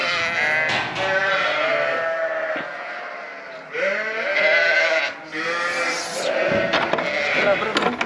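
Lambs bleat repeatedly and loudly in a barn, overlapping calls from several animals close by, with a few brief gaps between bursts.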